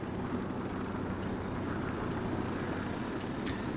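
A helicopter in the video game Insurgency Sandstorm, on the Coastline map with U.S. Marines, drones overhead as a steady low rumbling whir that holds at an even, fairly loud level throughout without a break.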